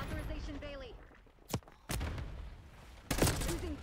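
Sharp, loud gunshots in the Black Ops 6 beta, with a couple of single reports and a louder burst near the end, heard under people chatting.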